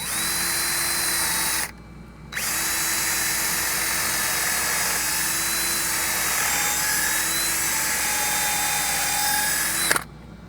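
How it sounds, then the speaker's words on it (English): A power drill whines at high speed pre-drilling into scrap wood boards, running continuously, pausing briefly once, then bearing down again before stopping. "I'll pre-drill this one down the center and through that board"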